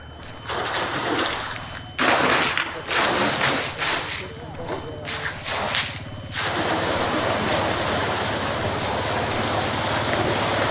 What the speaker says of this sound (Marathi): आपण आता बघूयात की पाणी कशा पद्धतीत देते आता ही मोटर ऑन झालेली आहे